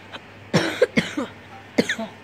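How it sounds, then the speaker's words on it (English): Several harsh coughs in short bursts, close by, with brief pauses between them and a final cough after a gap. "Been sneezing, coughing a lot."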